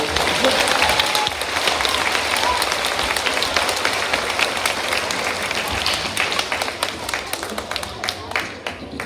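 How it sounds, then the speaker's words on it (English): A school Veterans Day assembly audience gives sustained, loud applause, a dense wash of clapping hands with some crowd murmur and voices mixed in, gradually thinning toward the end. "So let's say thank you and round of applause."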